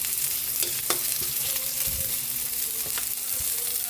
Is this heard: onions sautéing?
yes